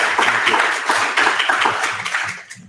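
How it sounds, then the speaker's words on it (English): Live audience applauding a panel of speakers at a fashion and social media business event, a dense steady crowd of clapping with scattered sharp claps that holds for a couple of seconds, then starts thinning and tapering off at the end. "Let's give a round of applause for our panelists."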